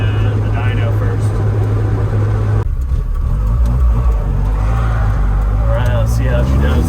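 Mazda Miata M2, a rare 1-of-300 car, engine revving while driving, a loud steady rumble with a brief dip midway before pulling strongly again, with excited voices talking over it.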